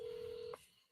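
A telephone call is dialed, with one steady dial or keypad tone held for about half a second before it cuts off into a quiet line hiss.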